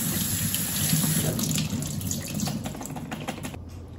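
Tap water runs steadily from a faucet over celery stalks in a home kitchen sink as dirt is rinsed off, a continuous close hiss and splash lasting throughout with no talking.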